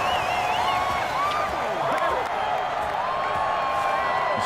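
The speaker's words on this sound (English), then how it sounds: "This crowd's roaring right now." Stadium crowd roaring in a football video game matchup between the Portland River Hogs and London Black Knights, a dense, continuous wash of cheering with whistle-like rising tones, loud and steady, with commentary voices mixed underneath.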